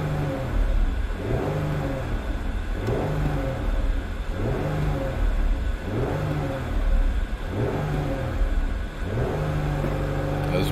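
A 2020 Chrysler Pacifica's engine revs repeatedly in park, climbing and falling in steady waves held near a 3,000 RPM limit, loud and close with a constant mid-pitched drone and no talking.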